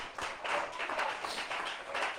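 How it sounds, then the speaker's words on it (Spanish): A church congregation applauding during a service, a moderate patter of many hands clapping in a continuous, slightly uneven wash without speech. "vale la pena darle el mejor de los aplausos esta mañana al Rey de la Gloria"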